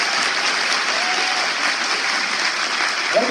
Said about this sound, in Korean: 이정도의 박수 한번 주시죠.